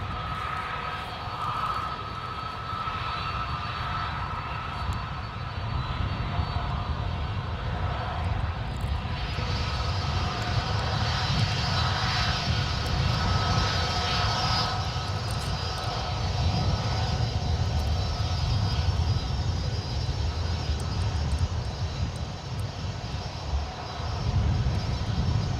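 A Korean Airlines A330-200 airliner taxis at San Francisco airport. Its jet engines give a steady, loud, broad roar that holds for the whole stretch with only slight swells, and no one speaks.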